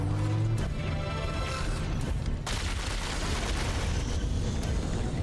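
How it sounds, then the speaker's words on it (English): A loud blast in the Halo: Campaign Evolved game, a heavy booming crash followed by dense rumbling debris and a sustained roar that stays loud to the end. "Explosion."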